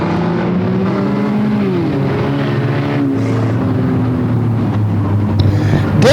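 Race cars roar off at the green flag of a 100-lap Enduro at Flamboro Speedway, a loud continuous field of engines with rising and shifting pitches as the pack accelerates past, dense and close throughout.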